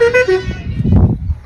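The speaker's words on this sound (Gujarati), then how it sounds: "હોર્ન વગેરે આવે છે." A vehicle horn gives a short series of quick, loud toots at the start, from a truck that has arrived to load red onions, followed by rumbling engine and handling noise nearby.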